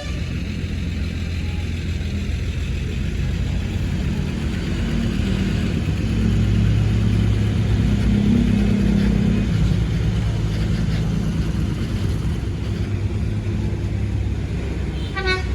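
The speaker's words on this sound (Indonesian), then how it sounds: "Ini yang bis non AC ke Balikpapan teman-teman, berangkat" Non-air-conditioned Trans Kaltim bus bound for Balikpapan, its engine rumbling steadily at close range under the din of a busy terminal, with a brief horn toot near the end.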